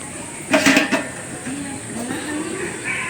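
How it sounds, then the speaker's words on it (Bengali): A metal kadai (wok) set down on a stove before cooking khichuri, giving a short cluster of clanking metallic knocks up close, followed by a quieter room tone with faint voice-like murmurs. "এখন খিচুড়ি রান্না করার জন্য কড়াইটা বসাই দিই"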